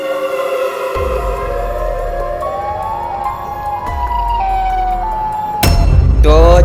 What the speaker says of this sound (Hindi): अजीब सा सायरन का आवाज़ भी आ रहा है यहाँ पे ऊपर से।